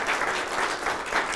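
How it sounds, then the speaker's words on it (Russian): Brief stretch of steady audience applause at a youth and politics talk show, dense clapping with gentle swells, steady throughout. "ваши аплодисменты."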